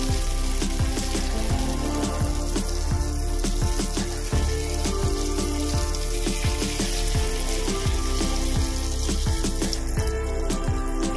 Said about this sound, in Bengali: আমি এখানে কড়াই বসিয়ে দিয়েছি, তেলটা গরম হয়ে গেছে। আমি এবার কেটে রাখা ধোকাগুলো দিয়ে দেব।